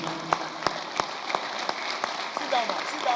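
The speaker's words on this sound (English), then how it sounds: "Please, can we give a standing ovation and a round of applause?" Standing ovation applause from a crowd at a 50th anniversary celebration, with sharp claps standing out, continuous and moderately loud, with some voices mixed in.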